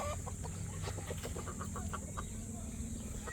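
Several chickens, including six-month-old stags, cluck in short, scattered bursts over a steady background hum, with a busy flock feel close by.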